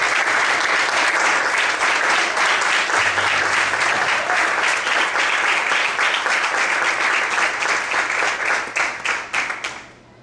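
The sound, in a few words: congregation applause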